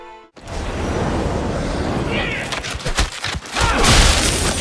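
Frozen enemies shatter in cold explosions during Titan Quest 2 combat on the northern beaches, a loud sustained roar of blasts with sharp cracking crashes and thuds near the end.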